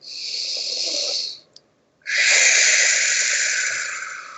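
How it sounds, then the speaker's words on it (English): Conscious breathing exercise: two long, loud, airy breaths drawn close to the microphone, separated by a short pause and a faint click, with no talk. "It's just conscious breathing."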